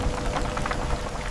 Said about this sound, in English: Rain is starting.